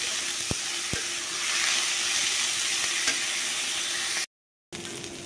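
Bitter gourd and potato stir-frying in a pan make a continuous loud sizzle, with a couple of sharp utensil taps early on and a brief cut near the end.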